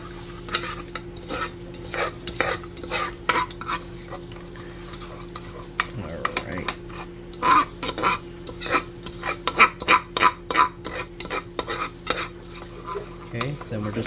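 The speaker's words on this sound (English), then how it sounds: "we're just going to keep stirring this to smoothen it out" Spoon stirring a pot of Kraft macaroni and cheese sauce, breaking up lumps: repeated scraping clinks and soft wet sloshing in an irregular rhythm, close and moderately loud, with no talking.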